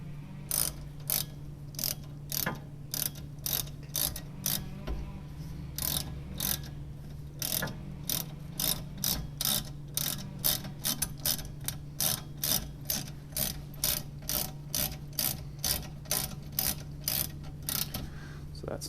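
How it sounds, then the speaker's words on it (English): A ratchet clicks in a fast, steady rhythm while tightening a rear brake caliper bushing bolt on a 10th gen Honda Civic, close and clear over a low hum with faint talk in places. "Except this time we can do it with our ratchet,"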